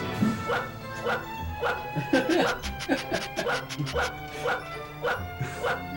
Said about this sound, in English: The dog has a bark button, but he doesn't move when he barks.